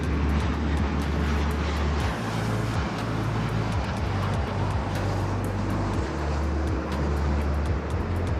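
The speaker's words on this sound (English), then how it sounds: "Here's that private Gulfstream up next." Private Gulfstream jet at LAX, a loud continuous engine roar with deep rumble and broadband hiss, sustained and steady across the whole stretch, no voices.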